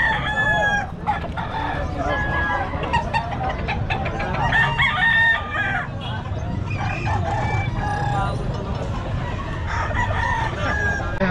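Roosters crow and hens cluck loudly and nearly without a break at a rooster sale, close by and mixed with background chatter from people talking nearby.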